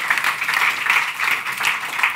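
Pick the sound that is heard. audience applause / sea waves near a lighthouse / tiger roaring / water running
audience applause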